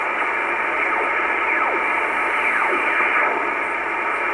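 Continuous shortwave radio static hisses throughout on the 28 MHz band, with faint whistling tones sliding downward as the dial is tuned up toward 29 MHz, and no voices.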